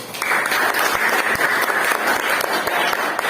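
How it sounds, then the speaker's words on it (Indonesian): A classroom group gives a sustained round of enthusiastic applause, dense clapping holding steady and loud for the whole stretch with a few sharper claps standing out. "beri tepuk tangan yang paling meriah"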